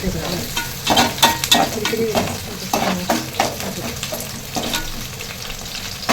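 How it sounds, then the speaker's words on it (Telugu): Onions frying in hot oil for fish curry, a steady close sizzle broken by repeated scraping stirs of a ladle against the pan, with no talking. "ఆయిల్ హీట్ అయ్యాక ఆనియన్స్ వేసి చక్కగా ఫ్రై చేసేసుకోవాలి"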